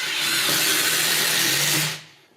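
A power drill drives screws into a water-damaged bathroom floor being repaired, a loud close whirring spin for about two seconds before winding down and stopping.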